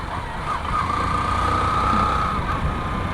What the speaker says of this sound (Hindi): तो ये एक डेली कम्यूटर मोटरसाइकिल है, जिसको आप सुबह शाम चलाते हो ऑफिस जाने के लिए